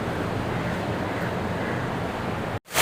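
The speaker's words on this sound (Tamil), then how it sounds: "இதுதான் நம்ம இந்தியன் பெருங்கடல்" Ocean waves roll onto Bentota beach on the Indian Ocean, a steady loud wash of surf with wind buffeting the microphone, cut off abruptly near the end.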